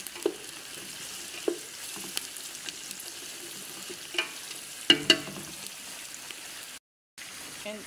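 Onion, Maggi cubes and garlic-ginger paste fry in a pan for chicken biryani, a soft sizzle with scattered stirring knocks and clinks and a brief drop to silence near the end.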